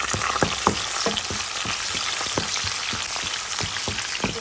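Onion sizzles in hot oil with fennel and curry leaves, a close, continuous crackling fry dotted with frequent sharp pops and spatters, with no voices over it.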